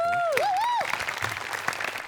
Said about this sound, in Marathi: तुझ्या प्रयत्नांसाठी एकदा टाळ्या व्हायला